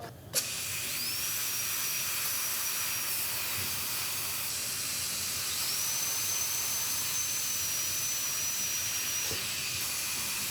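A high-speed dental handpiece whines steadily while reducing an upper molar for a crown preparation, a thin piercing tone that rises in pitch twice as the bur runs free, with constant hiss and no talking.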